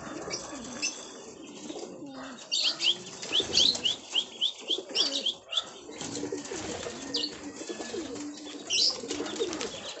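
Pigeons being fed breakfast in a loft coo and flap their wings, with bursts of wingbeats and short chirps over a steady murmur of cooing.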